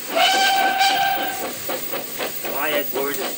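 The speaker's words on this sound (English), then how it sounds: "Well, that's my whistle." A steam locomotive sounds its whistle, a sustained bright tone followed by hissing steam and softer repeated whistle notes, loud and close, in an animated railway story set in 1915 with voices nearby.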